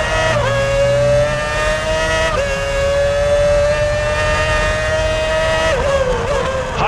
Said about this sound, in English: Here comes Villeneuve now, full throttle past our commentary position.